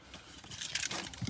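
Keys jangle briefly next to a Maxus T90EV electric pickup truck on a forecourt, a short bright metallic rattle rising and peaking in the middle before fading.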